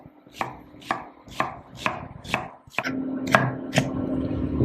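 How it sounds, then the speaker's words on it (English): A knife chopping onions on a cutting board, with about eight crisp, evenly spaced thuds close by, the later strokes sitting over a low background hum. "Chop our onions up"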